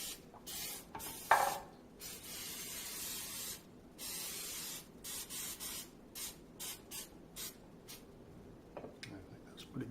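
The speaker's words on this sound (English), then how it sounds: "cooking spray." Cooking spray is sprayed into a casserole dish while making turkey tetrazzini, heard as close, short hissing bursts with brief gaps between them and a voice at times.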